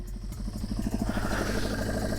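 A 1976 Honda CB500 Four motorcycle engine idling close by, a steady even mechanical thrum with a light rhythmic pulse and faint clatter, no talking.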